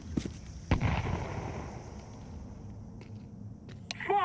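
A grenade bursts in a competitive first-person shooter match on the map Ancient: one sharp, close blast followed by a fading rumble, then quiet game ambience and a few small clicks.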